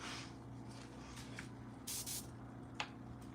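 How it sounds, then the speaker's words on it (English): Aerosol spray paint priming a gun piece for a Warhammer 40K miniature: one short hissing burst of about a third of a second, held at a distance, over a steady low room hum with a few faint clicks. "So I'm gonna go ahead and spray paint the gun here."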